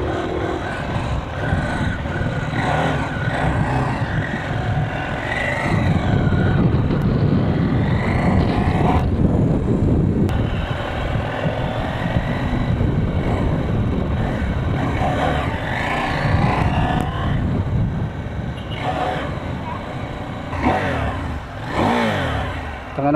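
A KTM 790 Adventure motorcycle engine runs steadily and loudly throughout, with a rumbling mid-range drone that swells and eases as the throttle shifts during a test ride, with no voices over it.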